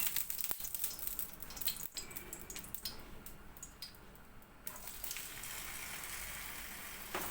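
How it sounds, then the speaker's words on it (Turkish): Quiet, continuous sizzling of cheese gözleme flatbread frying in a pan, soft crackle and hiss with a few faint clicks and taps, no talking. "Bunların hepsini aynı şekilde ben kızartayım güzelce"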